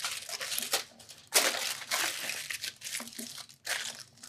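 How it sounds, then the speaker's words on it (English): Aluminum foil crinkles and crunches as it is wrapped around a bottle, in irregular bursts of close crumpling separated by short pauses. "now I'm going to wrap the bottle up in the aluminum foil that we had"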